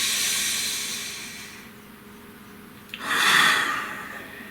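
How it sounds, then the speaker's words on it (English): A single deep breath taken close up, a long audible inhale-exhale with a brief gasp-like onset, rising to a fuller, louder exhale before fading into quiet. "Breathe."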